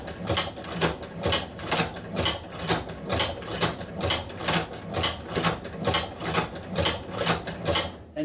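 An Outlaw manual leather sewing machine stitches through leather with a steady, repeating clack, about two stitches a second, close and even throughout with no talking.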